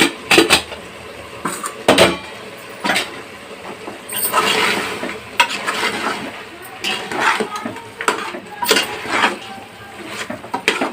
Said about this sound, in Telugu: ఇట్లా కలుపుకోవాలండి మటన్